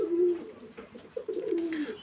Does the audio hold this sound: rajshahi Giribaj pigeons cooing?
yes